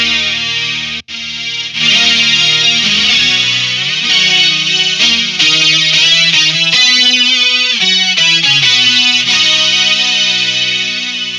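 An electric guitar runs through a Boss SY-1 synthesizer in lead mode, giving a loud, bright, chorused synth lead of single-note lines that sounds continuously with a brief dropout near the start.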